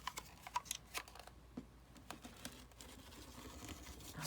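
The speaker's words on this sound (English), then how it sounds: "I'm just going to do another decorative cut" Scissors making a decorative cut in paper, a quick run of faint, close crisp snips and paper crinkles with no talking.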